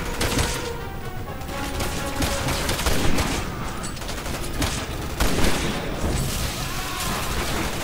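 Dense, continuous gunfire and booming blasts fill the scene in the video game Resident Evil 6. The shots are loud, steady and sustained, with bursts overlapping one another.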